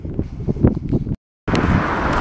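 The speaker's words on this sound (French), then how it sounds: "Excuse-moi s'il y a du vent." Outdoor wind gusting straight into a microphone, a low rumbling buffet that drops out for a moment and then returns just as strong.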